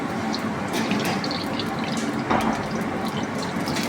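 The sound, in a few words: mustard oil poured into hot wok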